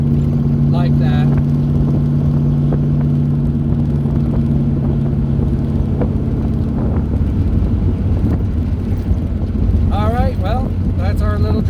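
A car driving along a road before rain, steady engine and tyre rumble with wind buffeting the microphone, close and loud throughout, with a voice talking over it near the start and end.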